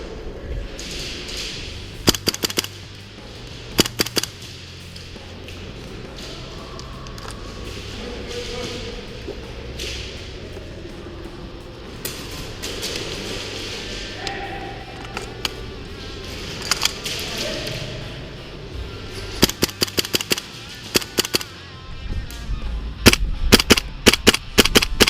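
A GHK AKM gas blowback airsoft rifle fitted with a Zhukov kit fires a magazine outdoors at a range, sharp cracking shots in scattered bursts and quick strings over a steady background hiss.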